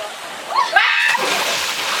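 A person jumps into a resort pool with a bright splash of water, heard close up amid excited voices talking and shouting around it.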